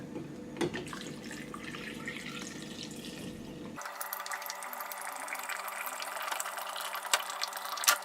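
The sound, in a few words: spring water poured over fruit, lemon and rosemary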